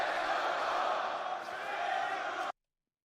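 Loud, continuous crowd roar at a UFC event in Las Vegas, a dense, steady wall of cheering and shouting with a slight dip midway before cutting off abruptly.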